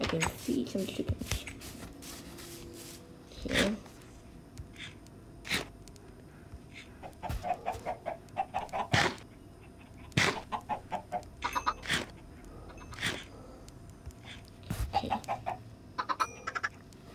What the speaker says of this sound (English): Bunch of baby chickens.